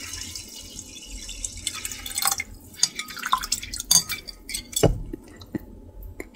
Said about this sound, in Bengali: আমি এর ভিতরে আরো পানি দিব।